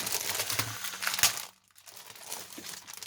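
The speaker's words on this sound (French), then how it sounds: "Stamperia a changé ses emballages, ils sont vraiment pas faciles à ouvrir." Crinkling plastic packaging around Stamperia craft papers being pulled open, close and crackly for about a second and a half, a brief silence, then softer rustling resumes.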